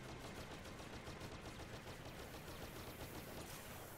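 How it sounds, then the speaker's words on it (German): Dense, continuous rapid gunfire from the Star Wars Battlefront video game on Xbox One during a battle on Tatooine, loud and unbroken from start to finish. "Ich schieße jetzt gerade noch ein bisschen drauf"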